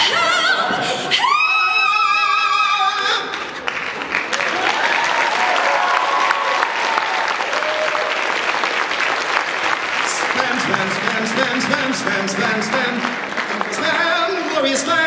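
Convention panel audience gives sustained applause and cheers for voice actors, a loud continuous crowd roar with voices shouting over it.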